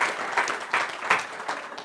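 At a travel festival talk, an audience claps in a quick, even rhythm of about three claps per second, close and fairly loud throughout the short burst.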